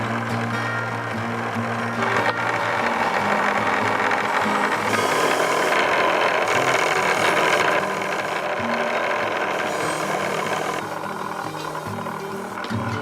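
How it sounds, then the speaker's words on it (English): An old wire wheel on a grinder whirs steadily as it scrubs rust and grime from an old hand well pump, a continuous loud abrasive buzz with slight shifts in pitch as pressure changes. "I think my old wire wheel's pretty fitting to clean up this pump"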